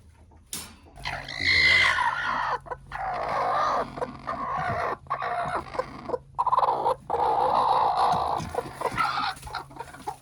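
Backyard chickens cluck and squawk near a nesting box, a loud, busy run of overlapping calls with a few short pauses and a low hum in the background.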